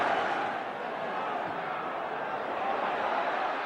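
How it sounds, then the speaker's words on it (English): Football stadium crowd at an FA Cup quarter-final between Spurs and Liverpool, a broad continuous roar of many voices, distant and even, with no clear individual words. "And listen to the crowd now."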